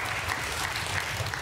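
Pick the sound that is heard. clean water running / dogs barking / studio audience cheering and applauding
studio audience cheering and applauding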